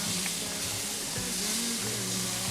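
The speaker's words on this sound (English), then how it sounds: "put that in, give it a good toss, stir" Peppers sizzle and fry in a hot pan on a stovetop for a breakfast burrito, with scraping tosses and stirs breaking through a steady close hiss.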